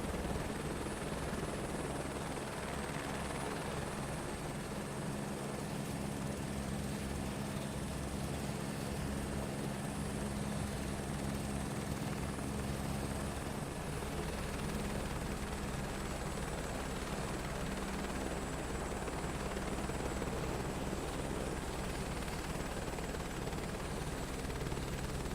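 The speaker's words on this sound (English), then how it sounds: "I've been doing so much practice now with this helicopter" A helicopter in Microsoft Flight Simulator 2024 drones steadily and loudly for the whole stretch, its rotor and engine noise unbroken and even with no speech.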